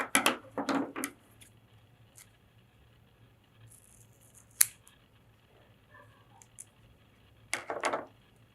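Scissors snip through an adhesive square to halve it for mounting motors on a Lego robot car, giving a few close, quick cuts with a crisp burst at the start and another near the end, quiet gaps between.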